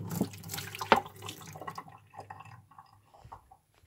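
Water pours from a tap, a splashy hiss that starts fairly loud with a sharp splash and gradually fades to faint trickles over a few seconds, with no talk.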